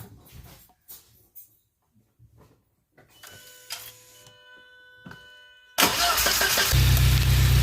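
An Audi A4 B5 1.8T quattro cranks briefly, then its engine catches and settles into a loud, steady idle close by, following a few quiet clicks and faint workshop noises.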